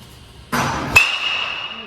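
A 2022 Louisville Slugger SOLO BBCOR metal bat striking a baseball during hitting practice: one sharp, loud crack followed by a bright, lingering metallic ring that fades slowly, heard over a rising noise just before contact.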